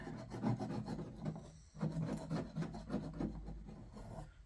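Spray paint is being stripped off a Yamaha golf cart body with repeated rasping scrape strokes in an uneven rhythm, broken by a brief pause. The scraping is faint and close.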